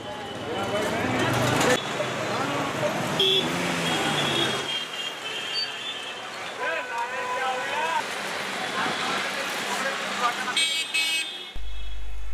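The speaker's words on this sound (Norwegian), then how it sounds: "Bilene tuta, og det var mye bråk og spektakkel." Busy New Delhi street traffic with car horns honking repeatedly, short tonal toots and longer blasts over engine rumble, while people talk nearby through much of it.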